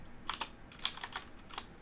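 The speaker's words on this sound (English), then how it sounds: "Again, sorry for all the keyboard noises." Computer keyboard typing during a coding session: a handful of soft, irregular key clicks in short clusters, close and fairly quiet, with no talking.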